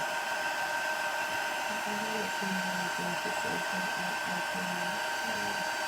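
Hair dryer blowing steadily to dry chalk paste, a constant close whirring hum running throughout while a voice talks faintly underneath.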